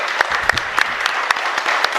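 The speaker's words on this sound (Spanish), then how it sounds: "Fuerte aplauso entonces para el Señor." A crowd at a Catholic Mass in a chapel claps steadily, many hands beating in a dense patter with a few sharper claps standing out near the microphone.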